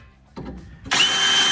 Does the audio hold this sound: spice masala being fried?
no